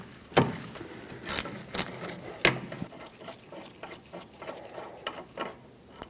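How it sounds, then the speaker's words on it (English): Ratchet wrench with a 14mm socket loosening caliper bolts on a 2012-2018 Nissan Altima rear brake, giving several sharp, close clicking bursts followed by quieter repeated ratcheting clicks. "Once again, 14mm socket, remove them both."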